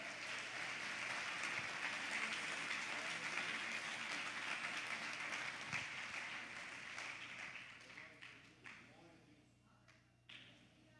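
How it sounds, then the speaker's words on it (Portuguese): A church congregation applauds during a worship service, a dense wash of many hands clapping that holds steady for several seconds and then thins out into a few scattered claps as it dies away. "Pode aplaudir, porque é para Ele."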